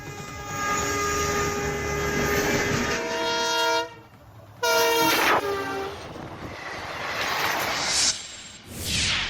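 A train passing during a high-speed test run on the Madurai–Bodinayakanur line, a loud horn sounding in long blasts over the roar of the wheels and carriages, close and continuous.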